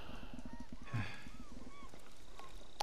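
A horse in the Ghost of Tsushima video game trots with rapid hoof clip-clops, then gives a short whinny in the middle, with rustling game ambience throughout and a voice speaking over it.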